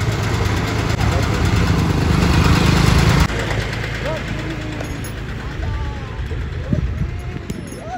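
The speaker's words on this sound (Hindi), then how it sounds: "उधर देखो पीछे चाचा आ रहे हैं ट्रैक्टर लेके" A tractor engine rumbles loudly on a rural farm track as it approaches, then drops back to a lower, steady running drone while people talk nearby.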